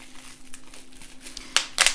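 Packaging crinkles softly and then rips open in two sharp, close bursts near the end, following a stretch of quieter rustling.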